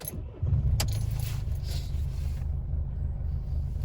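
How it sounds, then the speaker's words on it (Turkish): Keys jangle briefly, then a Mercedes Vito van's engine cranks and catches, settling into a steady low idle rumble, close and moderately loud. "Arka alalım, aracı çalıştıralım."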